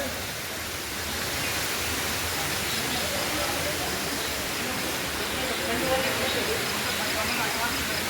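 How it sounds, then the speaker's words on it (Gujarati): Water pouring down a mountainside near Parvati Cave in Pachmarhi, Madhya Pradesh, producing a steady, broad rushing hiss that holds at an even loudness throughout. "પર્વતમાંથી પાણી પડે છે મિત્રો એટલે બધે પાણી પાણી જ છે."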